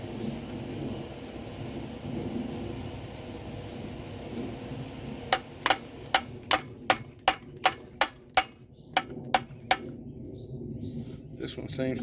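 A hammer drives a frozen pin out of a vehicle differential, about a dozen sharp metallic strikes in a quick even rhythm, close by, after a stretch of low rumbling background.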